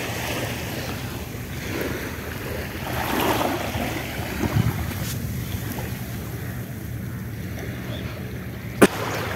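Sea waves at Patenga sea beach, a steady broad wash of surf mixed with wind buffeting the microphone, continuous and fairly loud, with one brief sharp knock near the end and no talk.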